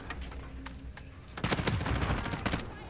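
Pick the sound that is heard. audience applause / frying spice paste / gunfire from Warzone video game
gunfire from Warzone video game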